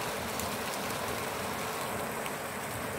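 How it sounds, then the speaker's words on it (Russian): Steady rain hisses evenly in the background, a soft constant wash of falling water with no voices. "У нас дождь идет."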